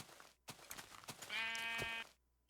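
A sheep bleats once in the Minecraft video game (Infdev 20100420 version), a sustained nasal bleat lasting under a second that follows a few soft clicks and thuds, with no talk over it.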